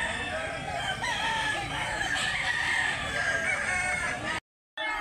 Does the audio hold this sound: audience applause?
no